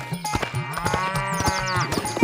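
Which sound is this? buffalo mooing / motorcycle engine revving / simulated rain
buffalo mooing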